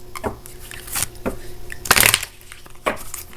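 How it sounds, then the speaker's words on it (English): A deck of cards is shuffled nearby in separate snapping bursts, one louder riffle in the middle, over a faint low hum. "just go ahead and shuffle the other half"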